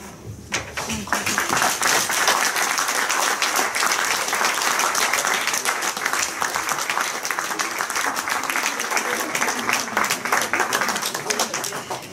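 A full audience applauds after a presentation, a dense and even roar of many hands that holds steady and loud for the whole stretch.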